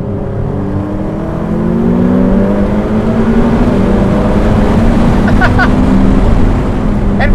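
A Ferrari F8 Spider in race mode accelerates hard, its engine note climbing through rising harmonics in a loud, close roar that builds steadily over several seconds.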